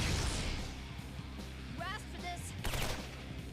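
A bullet attack in the turn-based role-playing game Shin Megami Tensei IV Apocalypse: rapid gunfire bursts that stay fairly steady, mixed with game music and effects and sitting under a dense layer of other sound.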